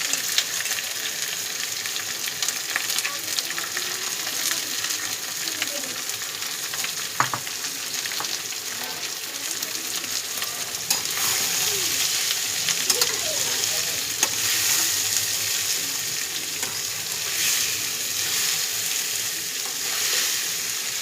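Rice and minced goat meat khichuri sizzles and fries steadily in a wok for home cooking, a continuous close hiss with occasional scrapes and stirs and no talking.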